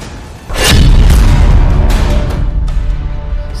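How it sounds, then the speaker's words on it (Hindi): A single heavy missile blast erupts suddenly as a deep, loud boom, followed by a long rumbling roar that fills the air and slowly trails off. "मिसाइल ब्लास्ट से शुरू हुआ।"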